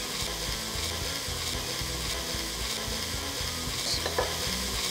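Chopped garlic and onion frying in a little olive oil in a hot pan give a continuous bright sizzle, heard alone over a low rhythmic backing with no talk.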